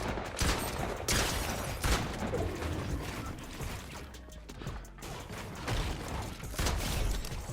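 Rapid shotgun blasts and rattling gunfire ring out in a video game firefight, dense and loud bursts that repeat through the scene alongside mechanical clanks.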